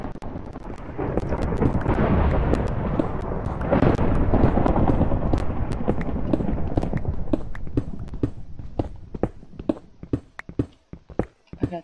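A thunder spell cast over and over in an online video game makes a dense, loud rumbling roar that swells and then breaks into separate sharp cracks as it fades.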